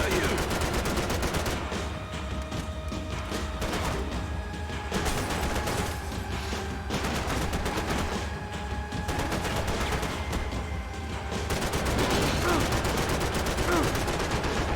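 Sustained rapid gunfire in a first-person shooter video game, dense automatic bursts close by and almost continuous, with a few brief dips and heavier volleys near the end.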